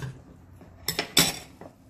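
A utensil scrapes and clinks a few times against a pot of couscous stew with beef and vegetables, close by and fairly quiet, with soft pauses between the strokes.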